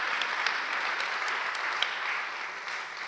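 An audience at a literary talk with an author gives a short burst of steady, even applause that fills the room briefly.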